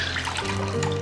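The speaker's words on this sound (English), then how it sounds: "Just take out extra water from the t-shirt" A soaked t-shirt being wrung out by hand over a tub while preparing it for tie-dye: a close, steady splashing and trickling of water pouring down, fairly loud and continuous for about a second, with no talk.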